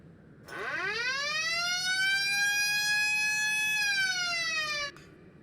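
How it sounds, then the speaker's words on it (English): A loud, aggressive vehicle siren in the BeamNG driving game rises sharply in a rising sweep, holds a steady bright wail with strong harmonics for several seconds, then cuts off abruptly. "much louder and more aggressive siren"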